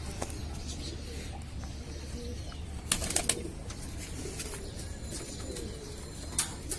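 A pigeon being let into its loft flaps its wings in a couple of brief bursts near the middle and end, over steady faint outdoor background with soft cooing.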